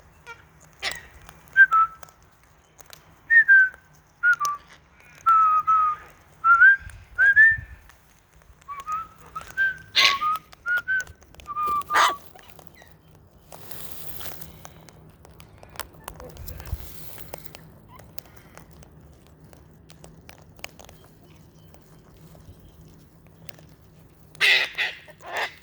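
Backyard parrots give a series of short, rising whistled calls in bursts, with clicks and scattered chirps, while people talk intermittently nearby.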